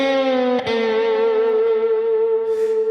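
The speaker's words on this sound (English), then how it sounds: "I would yank the whammy bar this way to bend the note up" A single sustained electric guitar note is bent upward with a whammy bar, heavily effected and slightly distorted, ringing loud and alone with a sharp pick attack partway through and a smooth rising pitch glide.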